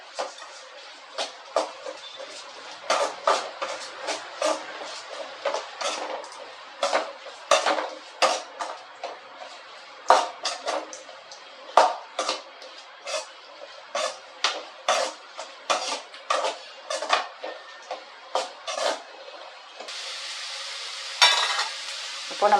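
A utensil scrapes and clinks against a pan as chilli powder is stirred into a village-style fish curry, with repeated irregular strokes and knocks, close and clear, and a brief sizzling hiss near the end.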